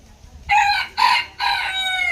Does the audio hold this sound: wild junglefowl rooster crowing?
yes